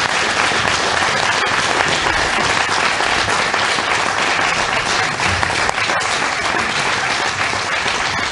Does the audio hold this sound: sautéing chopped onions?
no